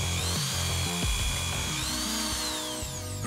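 Cartoon-style power drill whirring and grinding into a coconut, a steady close buzzing with rising and falling pitch over a busy comic backdrop.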